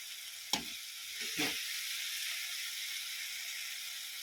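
An egg frying in a pan while cooking seblak, a soft, steady sizzle with two brief sharp crackles near the start as it hits the hot oil, then an even hiss.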